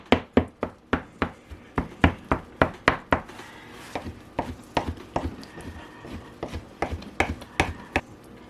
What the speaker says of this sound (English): going to chop it up